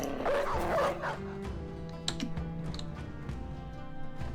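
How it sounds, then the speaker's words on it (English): Dogs bark and yip during a medieval battle in a video game, a few quick barks over combat clatter and muffled ambience, fairly faint. "We'll let the dogs finish him off,"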